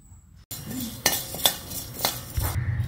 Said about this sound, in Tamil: இப்போ உளுந்தம்பருப்பு ப்ரௌன் ஆகிற வரைக்கும் நம்ம வறுக்கணும்.